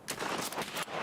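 A single gunshot in Escape from Tarkov, loud and close, with a sharp onset and a short, noisy ringing tail.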